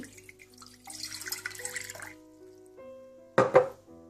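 Water poured into a pan to make sugar syrup, a steady splashing stream for about two seconds, then a short sharp splash a moment later, close and clear over soft background music.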